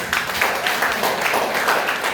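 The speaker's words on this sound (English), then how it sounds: "A round of applause." A classroom audience claps together, a dense, steady patter of many hands lasting a couple of seconds at moderate loudness.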